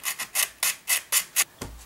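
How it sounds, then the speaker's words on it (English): Sandpaper wrapped inside a cap and rubbed back and forth by hand over a curved piece: about seven rhythmic, raspy scraping strokes, close and fairly loud, with a final duller bump and no speech. "your sandpaper, wrap the sandpaper in the cap,"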